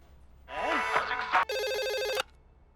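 A telephone rings with an electronic warbling tone, one burst followed by a steady sustained ring, fairly close and clear with no talking.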